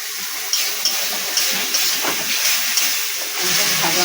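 Water is poured into a hot cooking pan while a sour curry of mourala fish with hog plum and mustard tempering is made, giving a steady sizzling hiss with small bursts.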